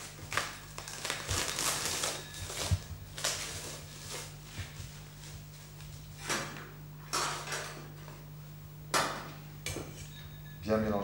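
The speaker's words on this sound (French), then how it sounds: "Dresser la salade de fruits en coupe." Fruit salad being spooned and plated into serving cups, with soft crinkling, clinking of utensils and dishware in irregular bursts close by, over a steady low hum.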